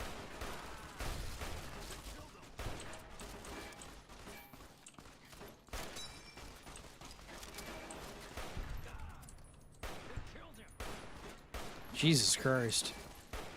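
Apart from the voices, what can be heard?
SMG gunfire from a video game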